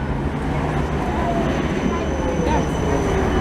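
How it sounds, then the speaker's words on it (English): A Budapest line 4 tram rumbles past close by, its wheels giving a faint metallic squeal over the steady rolling noise. "Here is a tram 4 to Silkalband here."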